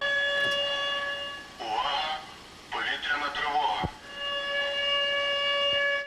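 A steady air raid siren wails continuously during an emergency drill at a school in Irpin, with a voice speaking briefly over it in two short stretches before the siren carries on alone.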